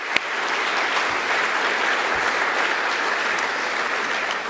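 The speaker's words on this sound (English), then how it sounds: "Please give them a round of applause." Steady applause from an audience at the Northern Territory 2021 Australian of the Year Awards ceremony, honouring award recipients; dense, even clapping holds at a constant level throughout, with no speech over it.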